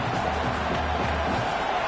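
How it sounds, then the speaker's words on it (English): A college football stadium crowd at a Michigan game roars loudly and continuously, a dense wash of cheering with no breaks. "This crowd, full throat, splitting the eardrums and letting them know it's going to be a long day"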